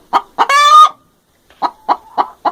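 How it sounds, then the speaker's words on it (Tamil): A hen clucks in short, close bursts, with one longer squawking cackle early on, then a steady run of evenly spaced clucks. "hen."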